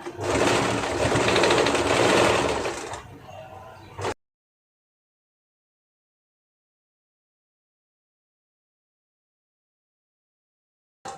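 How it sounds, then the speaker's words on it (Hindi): A sewing machine runs a side seam joining kameez and sleeve, a steady rapid stitching whirr for about three seconds that slows and stops, followed by long silence. "अब हम साइड सिलाई करेंगे।"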